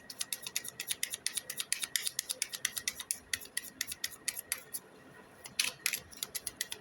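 A deck of tarot cards is shuffled close up, producing a quick, rhythmic run of crisp little snaps and riffles that keeps going steadily for several seconds, fairly soft and with no one talking.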